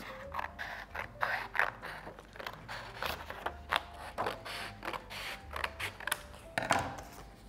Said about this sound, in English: I'm going to cut a strip off